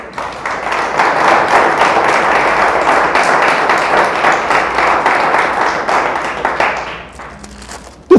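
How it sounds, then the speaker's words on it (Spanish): A church congregation claps during a sermon, many hands in a loud sustained roll lasting around seven seconds before tapering off, close and full. "Damos un aplauso a Él."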